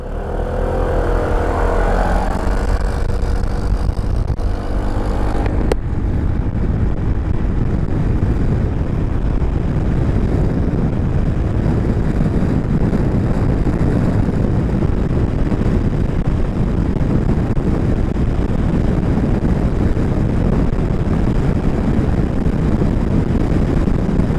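A 2019 Yamaha Xmax 250 scooter climbing uphill at high revs, engine roar blended with loud, steady wind buffeting across the whole stretch.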